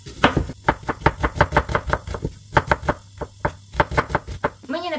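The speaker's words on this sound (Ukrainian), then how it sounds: "ми подрібнемо цибульку на шматочки" Rapid, steady knife chops through an onion on a cutting board, many sharp knocks in quick rhythm, close and clear, ending with a brief clatter.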